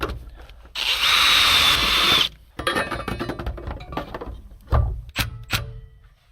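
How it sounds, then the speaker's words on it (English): A power drill cuts with a hole saw running inside a larger hole saw, a loud grinding whine for about a second and a half, then stopping and restarting in shorter rough bursts with knocks and handling noises between them. "I'm going to do the hole saw within a hole saw technique"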